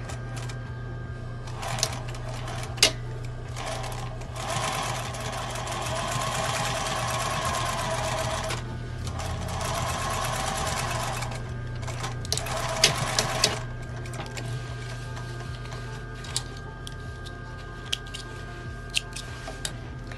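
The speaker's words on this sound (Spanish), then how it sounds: "voy a pasar una costura iniciando acá y terminando en el punto de la grapa" A sewing machine stitches a seam joining the fly pieces of a garment, running in several steady bursts of rapid mechanical whirring separated by short pauses, with small clicks and handling noises from the fabric in between.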